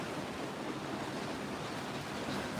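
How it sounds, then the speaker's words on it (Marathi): Strong wind blowing steadily during heavy monsoon rain, a dense, continuous roar that stays loud and even throughout with no voices. "भरपूर हवा आहे"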